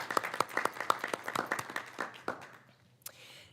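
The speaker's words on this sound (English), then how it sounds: "We applaud them if we could give them." A small group at a school board meeting claps, with distinct separate hand claps that thin out and fade after about two seconds, followed by a lone thump.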